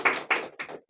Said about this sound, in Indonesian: Tepuk tangan dulu dong buat Kang Arif ini.